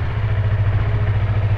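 A Yamaha MT-25 250cc twin-cylinder DOHC motorcycle engine idles steadily, a loud close low throb with a faint mechanical clatter and no talk over it.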